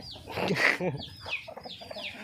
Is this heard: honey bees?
no